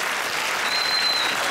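A veterans' association lecture hall fills with applause for Vietnam War veterans, a steady, dense wash of many hands clapping together throughout the brief moment.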